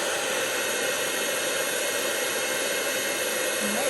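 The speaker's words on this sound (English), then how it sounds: "I apologize for the noise of the heat tool there" A heat embossing tool blows hot air in a steady, continuous whooshing roar, like a small hair dryer, close and unchanging throughout.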